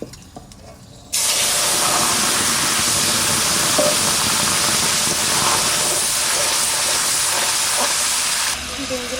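A torn bay leaf and cumin seeds hit hot oil in a pan while an egg and bottle gourd curry is being cooked, setting off a sudden loud, steady sizzling hiss that runs for about eight seconds after a brief quiet start.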